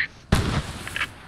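A single sharp mortar blast booms out in the World War II shooter Post Scriptum, a sudden heavy thump with a short rumbling tail that fades over about a second, with no talk.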